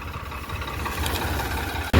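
A tractor engine idles low and steady with a rumbling throb during field work, holding constant before a sudden loud knock at the end.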